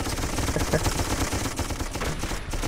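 Sustained machine gun fire in the war game Darkest of Days, dense overlapping bursts rattling continuously at close range.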